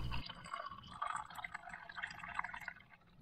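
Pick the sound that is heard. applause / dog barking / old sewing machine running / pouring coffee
pouring coffee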